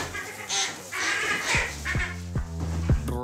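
Several short harmonic quacks from ducks, close by, in a loose irregular series with some background noise.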